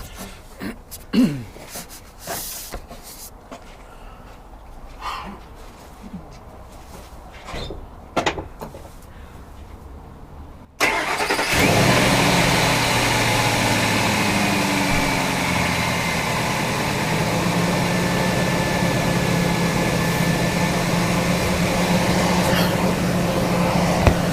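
Quiet scattered clicks and knocks, then a car engine abruptly starts and settles into a loud, steady idle with a faint whine, during fuel injector diagnosis.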